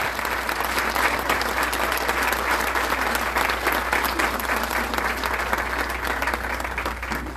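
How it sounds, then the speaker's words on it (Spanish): An audience applauds the parents at the opening of an equine therapy program in Apizaco, with steady, dense clapping from a sizable crowd that holds for the whole stretch at an even level. "Vamos a darles un aplauso a los papás."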